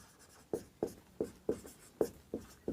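Handwriting a class 10 maths solution, pen strokes tapping and scratching in a steady rhythm of about six close, distinct marks, quiet and without talk.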